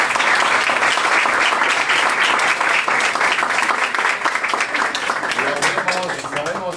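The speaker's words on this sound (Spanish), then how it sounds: "un aplauso, por favor." Audience applause at the end of a university-style philosophy lecture, a dense sustained wash of clapping from a large crowd that slowly thins toward the end, with faint voices underneath.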